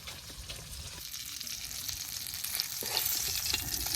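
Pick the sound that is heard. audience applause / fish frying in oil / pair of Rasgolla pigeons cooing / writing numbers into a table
fish frying in oil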